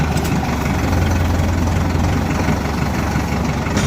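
A tractor engine idles loudly and close, a steady low diesel rumble with constant vibration throughout and no talking, on a farm where garlic is cultivated.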